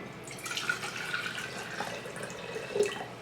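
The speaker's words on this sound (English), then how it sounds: "now we add our blue water to our bigger jar" Blue-dyed water pours into a large glass jar, a close, trickling splash with small drips and gurgles that swells briefly near the end.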